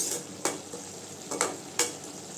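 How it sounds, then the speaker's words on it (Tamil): Manathakkali greens being stirred in a frying pan while they sizzle, with a steady hiss and several sharp scraping strokes of a spoon against the pan. "கீரையை நல்லா கிண்டி விட்டுக்கலாம்"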